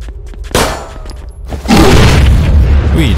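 An explosive barrel blows up in the zombie train shooter Zompiercer. A few light clicks come first, then a sharp close blast, followed by a loud, sustained roaring rumble of fire and debris.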